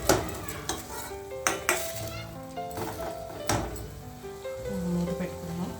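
Papaya halwa simmering in milk over a low flame, with soft bubbling and the clink of a spoon stirring the pan in short bursts, and someone speaking now and then.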